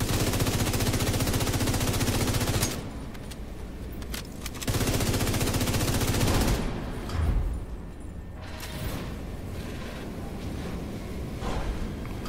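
Rapid bursts of assault rifle fire in a video game, loud and close, with sustained automatic volleys broken by short pauses and quieter gaps in between.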